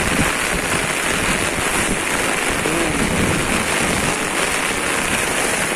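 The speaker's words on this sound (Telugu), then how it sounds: "చాలా వర్షం పడుతుంది" Heavy rain pours steadily over a residential building in Hyderabad, a dense, even hiss with wind buffeting the microphone and no voices.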